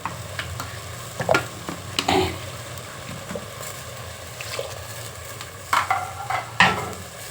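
Vegetables and ground masala of onion, garlic, ginger, cumin, turmeric and coriander fry in oil for pulao, a low steady sizzle broken by several sharp scraping stirs of a spoon against the pan.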